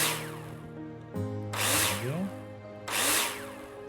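Power drill driving screws in the game Builder Simulator while building a tiny house: two sharp, loud bursts of whirring and buzzing with rising pitch, separated by a lower hum, and a brief spoken word.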